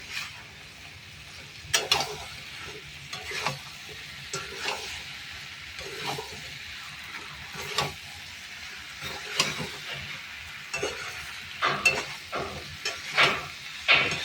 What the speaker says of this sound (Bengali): এইবার এর মধ্যে আমি ঢেলে দেবো এঁচোড় এবং আলু। একে দিয়ে এবার একটু কষিয়ে নেব।